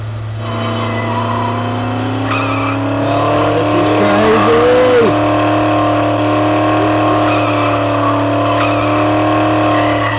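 A car in the Dead Island video game drives continuously, its engine drone loud and steady while tires squeal briefly partway through over a constant hum, with no voices.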